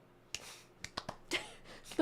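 A few sharp hand claps, close and fairly quiet, spaced irregularly in short bursts, with a brief voice-like sound at the end.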